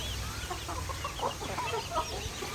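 Village chickens eating scattered grain cluck in short, soft bursts that come and go, faint and fairly close, with no talk over them.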